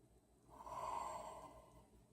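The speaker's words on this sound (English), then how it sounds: "3 more deep breaths here." One slow, deep breath during a calming bedtime yoga session, a soft airy inhale-exhale swelling and fading, quiet and close with no talking.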